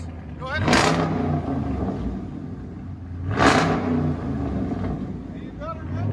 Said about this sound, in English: the active exhaust is not open either, so it'll get louder when you drive it